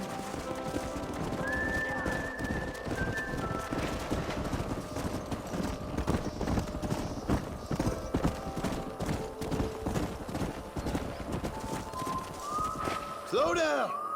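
Horses gallop in a Red Dead Redemption game scene, steady clip-clop hoofbeats running throughout with occasional neighs and whinnies, music and game voices layered over the rapid pounding rhythm.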